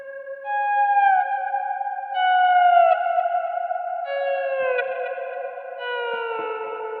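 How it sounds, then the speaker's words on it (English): Slow, swelling electric guitar notes bend downward and ring out, drenched in reverb and echoing delay that trail behind each phrase. "Both of these examples have had generous amounts of reverb and delay"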